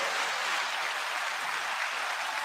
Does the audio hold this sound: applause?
yes